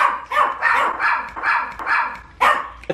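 A dog barks repeatedly in a quick, rough series of about six loud, close barks with short gaps between them, alone without talking.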